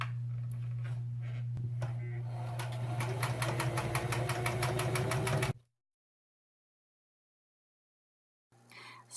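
A sewing machine stitches a tablecloth corner, humming steadily and then rattling in a fast, even run of stitches before stopping abruptly into silence. A faint noise returns at the very end.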